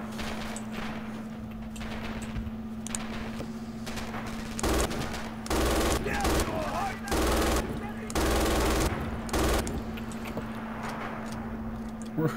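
Bursts of automatic gunfire from a WWII-era weapon in the shooter game Red Orchestra 2: Rising Storm, several loud sustained volleys over a steady droning game background.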